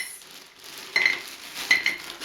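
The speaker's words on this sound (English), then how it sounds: "And I'm going to put and fill the glass full of stones." Small stones clink and rattle into a glass in two short bursts, close and bright, with a quiet hiss between.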